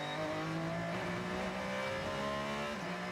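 A race car accelerates out of the pit lane during the 24 Hours of Le Mans 2021, giving a steady, loud engine drone whose pitch holds and shifts slightly as it pulls away, with continuous mechanical roar throughout.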